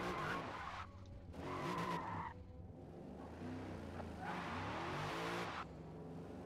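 Car tires skid and squeal in several loud bursts, each separated by brief pauses, with engine noise underneath and no talking.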